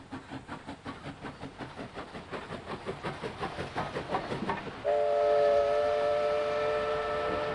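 The Ghan passenger train rolling along Australian track, a steady clickety-clack of wheels that builds in loudness, then a sustained multi-tone train horn sounds loud and close.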